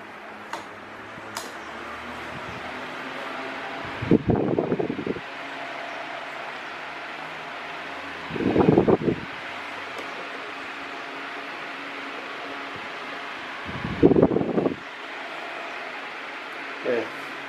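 A Britânia Ventus 30 electric fan runs at maximum speed with a steady airy whir. Louder rattling bursts from its loose base come back every few seconds.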